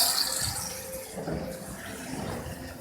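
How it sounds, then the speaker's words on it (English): Fresh water runs steadily into the tanks of a Bob's Space Racers water racer carnival game, a continuous hissing, splashing flow with a brief word spoken over it. "I'm just refilling the tanks with fresh, clean water."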